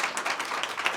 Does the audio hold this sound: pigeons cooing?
no